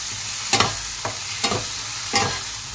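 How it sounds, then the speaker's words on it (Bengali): Spice paste with Kashmiri chili frying in a pan for egg lababdar, gentle sizzling punctuated by four distinct scraping stirs spaced about half a second apart, close and clear with no voices. "এবার আমি মশলাটা ভালো করে ভেজে নেব।"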